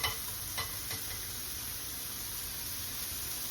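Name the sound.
sautéing in a pan for Bolognese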